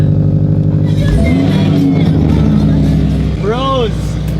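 A sports car with an Armytrix exhaust idles with a deep, steady rumble, then swells briefly into a rising rev near the end while voices talk over it.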